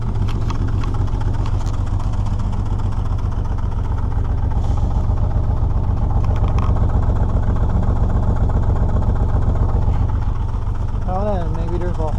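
A car in need of a tune-up, its engine running roughly with a loud, steady low chugging throughout, close by, with a voice speaking briefly near the end.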